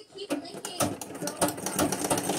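A treadle sewing machine runs in quick, uneven rhythmic clatters and ticks, close up and fairly loud for a couple of seconds.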